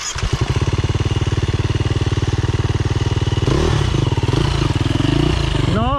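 A dirt bike engine on a forest trail revs loudly and close, a continuous rough motorcycle drone that surges higher partway through before a quick rising rev at the end, with no talking.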